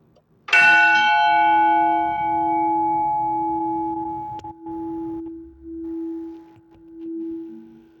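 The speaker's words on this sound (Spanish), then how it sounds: "Voy a activar uno manualmente y vamos a escuchar el sonido de la campana." A church bell at the Parroquia Nuestra Señora del Carmen, struck once by an electric hammer, rings out with a bright strike and then a long, slowly fading hum.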